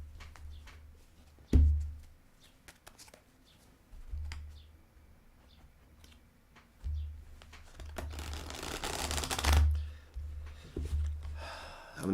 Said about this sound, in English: How many times do we shuffle?